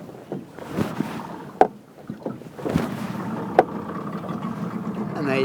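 A Yamaha 30HP two-stroke tiller outboard motor on a Quintrex Busta 420 boat is pulled over several times, sputtering and catching briefly amid wind and water noise outdoors.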